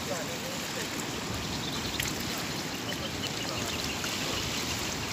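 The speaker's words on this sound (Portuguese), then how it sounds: "Tá descendo muito forte a água, viu?" The flooded Paraíba river in Atalaia, Alagoas rushes past in a dense, continuous roar of turbulent water, broad and unbroken, with no voices over it.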